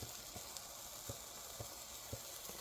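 Spinach and cheese omelet sizzling in a non-stick pan, a steady close frying hiss with small pops and crackles scattered throughout, no talking.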